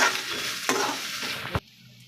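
Spices fry in hot oil in a pan, sizzling loudly with a couple of stirring scrapes before the sound drops off abruptly near the end.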